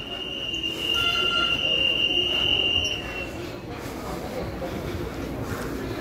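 EMU817+EMU818 Smile commuter electric train in Taiwan, heard as a steady rumble of rolling cars with a high squealing tone over the first half, then continuing running noise; insects chirp faintly.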